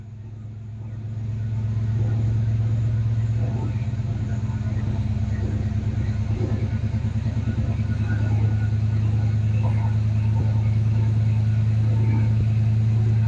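A 1978 Plymouth Volare with a 318 V8, held on the brake, revs up and then holds a steady strained rumble, loud and close, with a deep low drone and a faint rattle running through it.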